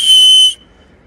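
A single shrill, piercing blast from a backpack's safety whistle, loud and close, held for about half a second before cutting off.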